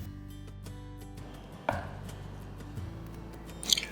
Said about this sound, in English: Cut the nian gao up into 1 cm slices.